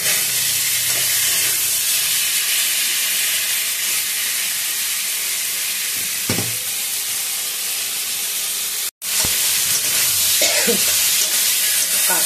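Water poured into a sizzling fish curry with eggplant and drumsticks, seasoned with green chillies and black cumin: loud, steady hissing and frying steam filling the whole stretch, with a brief cut near the end.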